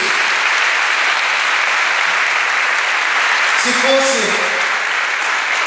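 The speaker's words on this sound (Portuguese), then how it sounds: "Pode aplaudir" A large crowd applauds steadily and loudly at a Catholic prayer group's 33rd anniversary gathering, a continuous wash of clapping with a voice speaking over it.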